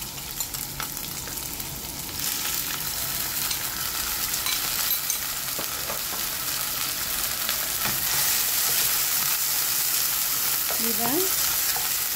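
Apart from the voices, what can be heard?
squid frying with garlic and sauce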